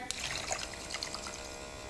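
An electric makeup brush cleaner spins a brush in water, giving a close, continuous whirring hum with splashy, sloshing water throughout.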